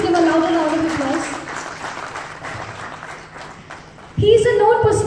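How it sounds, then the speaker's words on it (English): At a corporate event for an agro-chemical company, applause from the audience sits under a host's voice, the clapping carrying on and fading briefly before speech returns strongly near the end. "please give a louder round of applause"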